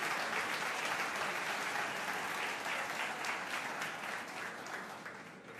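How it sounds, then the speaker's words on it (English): Warm audience applause at an evening street-safety conference, a dense steady wash of many hands clapping for several seconds before gradually thinning toward the end. "round of applause"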